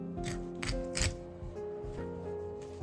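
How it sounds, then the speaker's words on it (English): A kitchen knife cutting the ribs off a mackerel fillet, with a few short crisp slicing crunches close by over a low background hum. "Then I cut off the ribs."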